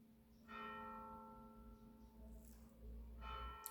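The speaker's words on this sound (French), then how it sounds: "Les cloches." Church bells ring faintly in the distance over a low rumble, with two soft, resonant strokes and a lingering hum between them.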